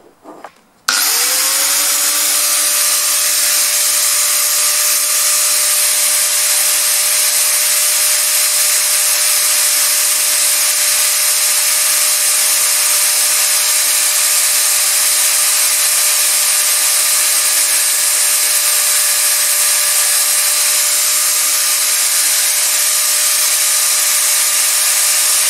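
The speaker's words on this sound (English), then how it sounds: "I'm going to get my very fine grinding wheel again, my slitting saw, and I'm just going to grind just this edge away here" A fine grinding wheel or slitting saw grinding the edge of a high-speed steel drill starts up after a brief clatter, then runs as a loud, steady whine with a sustained tone.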